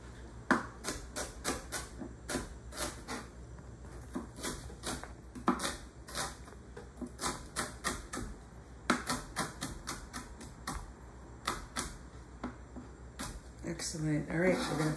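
A knife dices thin jalapeno strips on a cutting board for guacamole, a rapid series of sharp, close chopping taps in uneven bursts while a person talks over it.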